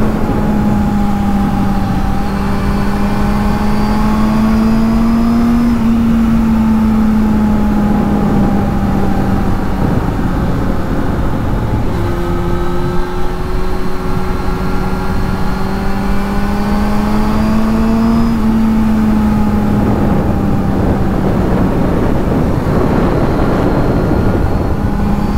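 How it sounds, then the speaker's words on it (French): A Honda Hornet 600 motorcycle engine runs loud and close between mid-range and three-quarter revs, its tone rising and falling in long sustained pulls, with no voices. "J'espère que vous entendez bien le son du moteur."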